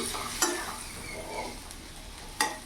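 Bitter gourd and potato curry stirred in a pan, a low continuous sizzle broken by two sharp scrapes of the spoon against the metal, close and fairly quiet.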